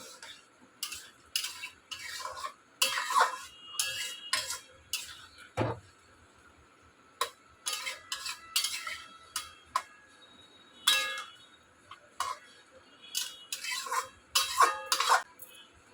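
Potato and pointed gourd curry stirred in a pot, repeated clusters of metal spoon clinks and scrapes against the pot in uneven bursts, close, with quiet gaps between.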